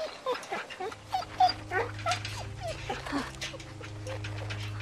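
A dog whimpers and yips in The Walking Dead video game, thin high whines rising and falling over a low steady hum of game ambience, fairly close and soft, with no talk.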